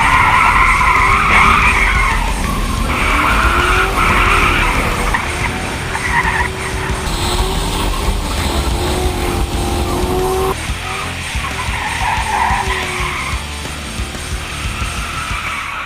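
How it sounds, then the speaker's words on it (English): A Chevy Caprice police car skids and drifts around a wet autocross course, tires squealing in long wavering sweeps over a loud, steady engine roar, continuous and close throughout. "we were destroying these cars for no reason, drifting them around, doing donuts"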